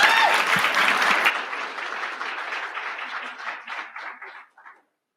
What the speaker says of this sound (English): Let's have a round of applause for Camilla, please.